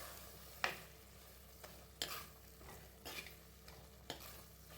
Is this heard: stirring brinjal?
yes